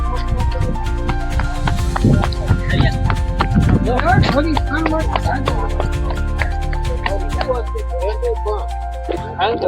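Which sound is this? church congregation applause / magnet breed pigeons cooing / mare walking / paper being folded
mare walking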